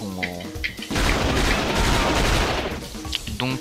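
A heavy weapon in the video game XIII fires a loud, sustained burst of gunfire lasting several seconds, with brief mechanical clicks and a faint voice before and after it.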